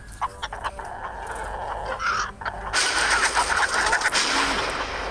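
A black fighting chicken in a game brawls amid clucking fowl sounds and rapid, loud game combat effects that swell into a busy clash.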